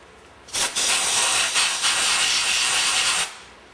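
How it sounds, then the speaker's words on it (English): A loud, steady hiss of compressed air blows a solvent-cleaned part dry during a Meyer E 47 rebuild. It runs for about three seconds with slight pulses, then cuts off sharply. "Alright, blow it dry."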